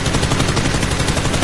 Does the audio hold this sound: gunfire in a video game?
yes